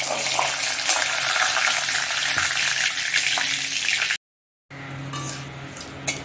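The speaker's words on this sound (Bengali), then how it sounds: "তেলের মধ্যে দিয়ে দিব এবার তেজপাতা আর দিয়ে দিব গোটা জিরে জিরেটা ভালোভাবে ফুটে যাক" Bay leaves and whole cumin seeds frying in hot oil give a steady, close sizzle that breaks off briefly, then resumes with a few light stirring clicks.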